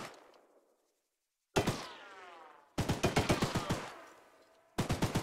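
A mounted .50 cal machine gun in a video game: one heavy single shot, then a long, loud, rhythmic burst of rapid thumping rounds and a shorter burst after it, with brief silences between.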